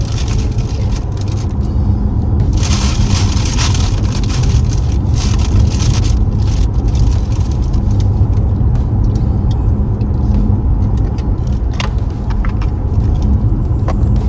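A car with automatic self-braking drives along a road, heard from inside as a loud, steady wash of engine and tyre rumble with no break and no talk.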